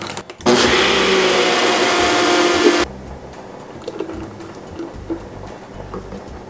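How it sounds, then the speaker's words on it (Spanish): A kitchen blender whirs loudly for a couple of seconds mixing a drink of sugar and Philadelphia cream cheese, then cuts off abruptly, leaving quiet room sounds with birds cooing outside. "lo vamos a licuar"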